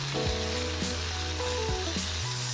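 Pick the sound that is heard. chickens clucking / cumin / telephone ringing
cumin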